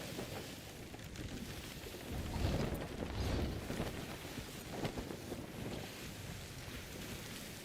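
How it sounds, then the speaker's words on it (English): A sailing ship in a video game cruises over open water, with a steady rush of wind and wave wash throughout and a slight swell midway, continuous and moderately loud with no talking. "Okay, let's turn these sails. Let's get some wind here."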